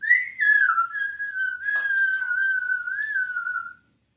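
A voice whistling in imitation of wind blowing around a log home, one long wavering tone held for nearly four seconds, close and clear, then silence.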